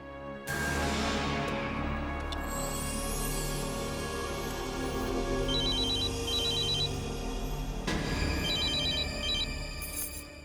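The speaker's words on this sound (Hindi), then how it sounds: "अनुपमा दीदी को फोन करती हूँ।" An outgoing call on a telephone rings loudly and close with a bright electronic ring tone that repeats in a steady pattern, sounding alone.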